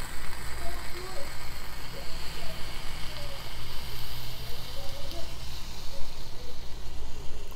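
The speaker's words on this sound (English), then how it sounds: "This is sizzling." Steady broadband sizzle and crackle of boiling hot water, continuous and fairly loud throughout with a low hum beneath.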